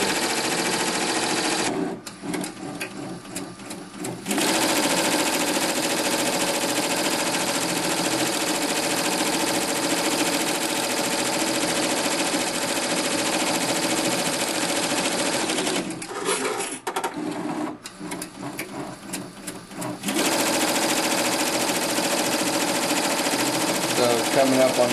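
An embroidery machine runs a rapid, steady stitching clatter close up as it works through the last series of a design of about 39,000 stitches. The stitching pauses briefly twice, and people talk over it.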